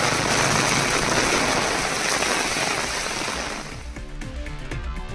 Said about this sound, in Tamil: சுமார் 2 மணி நேரத்திற்கு மேலாக பலத்த மழை கொட்டியது